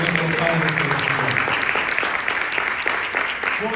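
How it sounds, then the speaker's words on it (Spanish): Church congregation clapping loudly and steadily in praise during a service, a dense sustained round of applause from many hands with voices mixed in. "dele fuerte palmas a nuestro Padre Celestial"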